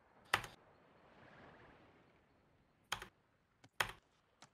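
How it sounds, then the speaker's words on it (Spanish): A few sharp computer keyboard key presses during a game of Sea of Thieves, a heavy single hit, then a pair of hits several seconds later and some lighter taps, all close to the microphone with quiet room hiss between them. "No sé si es mi teclado, tío, que se está jodiendo mi shift"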